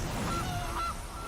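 A short goose honk effect plays in the MTG Arena digital card game as a Gilded Goose card lands: a couple of brief nasal honks over steady game background sound.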